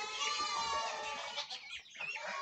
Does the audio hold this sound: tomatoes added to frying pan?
no